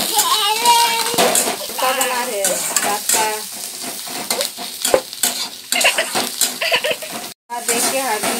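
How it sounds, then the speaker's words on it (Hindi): Cumin seeds hit hot frying oil for breakfast cooking, giving a loud, close sizzle with stirring and utensil scrapes against the pan, while voices and someone talk over it throughout. "ये देखिए मेरा तेल गरम हो गया, तो जीरा दे दे"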